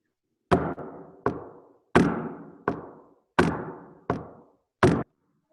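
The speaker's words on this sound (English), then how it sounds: "I will knock on the piano" Knuckles knocking on the wooden body of a piano in 2/4 time, seven sharp resonant knocks in an uneven strong-weak pattern, close and clear with no talking.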